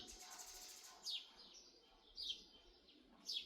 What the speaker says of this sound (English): What kind of bird is this?